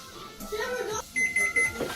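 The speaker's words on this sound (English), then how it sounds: "There went our timer." An oven timer goes off with short electronic beeps while cookies bake, with a voice talking over and around the tones.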